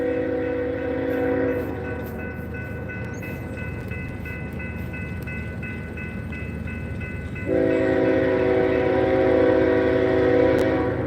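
A southbound Norfolk Southern freight train rolls across a railroad diamond crossing, its continuous rumble and rattling wheels carrying steady tonal squeal and horn-like hum, growing louder near the end, no voices.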